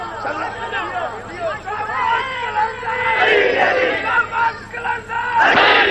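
Majlis crowd in Lahore shouting religious slogans in unison, a loud swelling chant of many voices with overlapping cries, rising in intensity toward the end.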